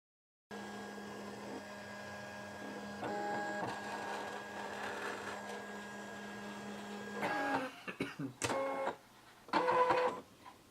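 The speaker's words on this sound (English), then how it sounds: "The machine has to select which cutting blade to use and then we're off to the races." A vinyl cutting machine works through Oracle 651 black vinyl, first a steady motor hum with tonal whine, then a run of loud, choppy mechanical bursts as the carriage and blade move in quick stops and starts.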